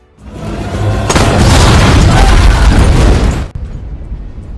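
A car blown up in a parking lot bursts into a loud, sustained explosion that roars for about three seconds and then cuts off abruptly, leaving a low rumbling tail.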